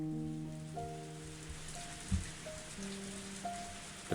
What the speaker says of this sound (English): I didn't think it would rain so hard